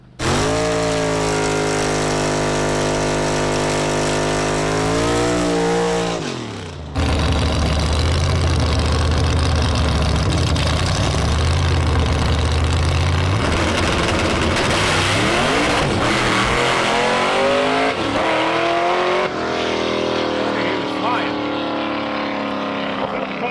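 A car engine holds a steady, loud idle, then roars as the clutch is let out slowly and the revs climb and vary, with people talking over it.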